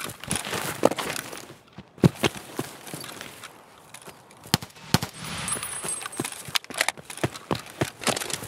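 Gunfire in the video game Escape From Tarkov comes as sharp, irregular shots and short bursts, some loud and close and others fainter, spread across the whole stretch with no speech.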